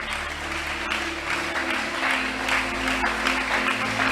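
A church congregation applauds and cheers for the Lord in steady, sustained clapping that fills the whole stretch at an even loudness, with faint voices mixed in.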